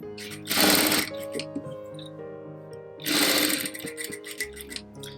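Sewing machine running in two fast bursts of rapid stitching as shape-stitching practice goes on, with a quieter pause between the bursts.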